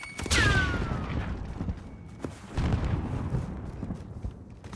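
A grenade detonates in Call of Duty MW3 as a loud close blast with a rumbling tail, followed about two seconds later by a second heavier burst amid gunfire-like game noise.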